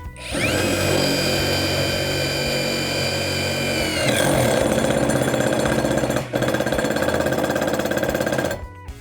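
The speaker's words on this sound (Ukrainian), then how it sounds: "Давайте ми спробуємо ось таким саморізом просверлити двутавр." A Dnipro-M DTD-201BC impact driver drives a self-tapping screw into a steel I-beam, first a loud steady motor whine, then a dense rapid hammering rattle that continues until it stops near the end.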